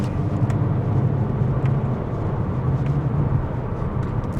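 A 2015 Skoda Octavia vRS runs on the road with manual gear shifts, its engine giving a steady low drone under road and wind noise inside the cabin, with a few faint shift blips.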